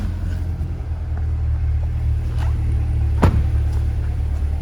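A 2020 Corvette Z51 1LT convertible idling with the top up, a steady deep low rumble close by with faint clicks and one brief sharp tick, no talk.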